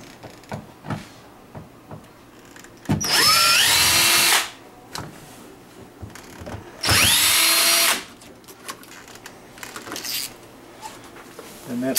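A power drill runs in two loud bursts of about a second and a half each, spinning out exposed deadbolt screws from a door, with quiet handling noises in between.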